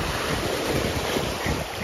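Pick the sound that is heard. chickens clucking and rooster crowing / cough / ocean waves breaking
ocean waves breaking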